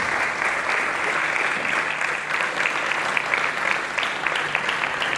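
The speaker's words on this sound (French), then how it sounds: "nous les applaudissons pendant qu'ils avancent" Steady, loud applause fills a debate hall as debaters walk onto the stage, a dense, continuous crowd clapping that holds at an even level throughout, with no speech on top.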